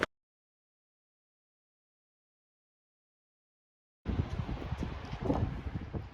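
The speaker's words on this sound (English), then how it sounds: "it was really windy, so that might be in the background" After several seconds of silence, gusty wind on the Wellington waterfront, New Zealand, buffets the microphone with low rumbling bursts, loud and close.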